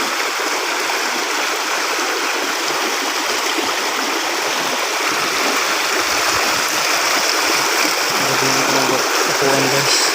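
A stream of water pours steadily into a constructed outdoor bathing spot, a loud, continuous rushing hiss that never lets up, with a faint voice somewhere beneath it.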